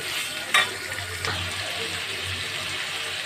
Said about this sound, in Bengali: এবার আলুটাকে একটু লাল লাল করে ভেজে নেব